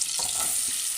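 Chopped onion hits hot oil in a pan, giving a steady close sizzle with a few soft stirring knocks, and no voices.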